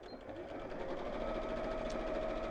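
A sewing machine stitches a water bottle carrier with a steady, continuous mechanical whir, fairly quiet and close, with no talking over it.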